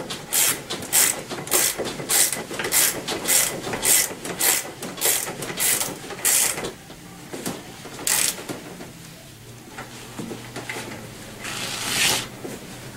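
A ratchet wrench tightens the front wheel nut on a Tao Tao ATM50A scooter, giving a close, rapid run of rhythmic clicking strokes that slows and thins toward the end.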